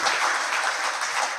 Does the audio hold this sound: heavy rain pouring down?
no